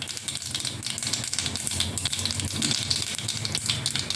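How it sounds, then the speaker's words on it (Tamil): Continuous crackling and spluttering of mustard seeds popping in hot oil, loud and close, with a steady dense sizzle throughout. "கடுகு வெடிக்கிறது."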